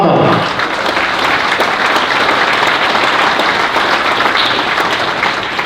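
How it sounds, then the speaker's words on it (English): A crowd at an award presentation breaks into loud, dense applause, continuous clapping from many hands held steady throughout. "round of applause for Mama"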